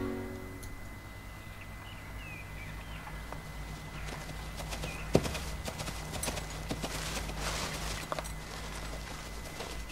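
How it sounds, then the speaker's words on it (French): Horse hooves clip-clop steadily on the ground outdoors, moderately near and even in rhythm, over a constant background hum, with one brief sharp knock partway through. "Tu crois que c'est le cheval de Moret?"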